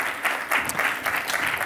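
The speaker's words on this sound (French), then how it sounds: "j'ai le plaisir d'accueillir sur scène Jean-Michel Courty et Édouard Kierlik qui sont là et qu'on applaudit s'il vous plaît." A conference audience applauds speakers as they come on stage, with brief, dense, fairly loud clapping that is continuous and close.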